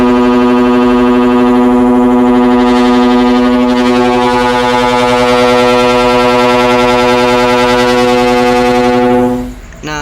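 One long, unbroken, loud horn tone from a Hino 500 truck in a video game holds steady for about nine seconds before cutting off.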